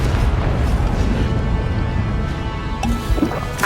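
Confringo fire spell exploding in the Hogwarts Legacy video game, a dense, sustained booming rumble with crackling bursts and a few sharper pops near the end, loud throughout with no talking.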